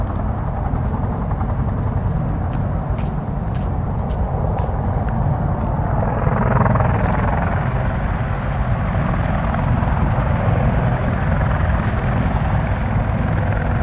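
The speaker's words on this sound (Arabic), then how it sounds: "هليكوبتر جيشية" A military helicopter drones continuously overhead near a beach, its rotor thrum loud and steady throughout, with faint ticking sounds up high.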